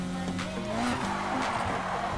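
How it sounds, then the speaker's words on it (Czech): In Need for Speed Heat, a car drifts sideways with sustained tire squeal layered over a loud, revving engine whose pitch rises and falls, close and continuous throughout. "Tohle auto chodí bokem velice rádo, samo."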